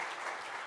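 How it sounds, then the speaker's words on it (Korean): A church congregation at a Sunday worship service applauds to welcome a missionary preacher, a brief burst of soft, even clapping heard from a distance. "우리 나오실 때 박수로 한번 환영했으면 좋겠습니다."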